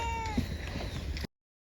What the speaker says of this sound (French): j'entendais des miaou et en fait il y a un chat au milieu de la montagne